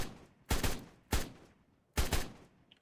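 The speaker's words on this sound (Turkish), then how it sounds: "Bak, mermiyle hasar vuruyorum ben buna." Three sharp gunshots fired in ARK Survival Evolved on the Ragnarok map, spaced about half a second apart, loud and close, with a brief quiet between each blast.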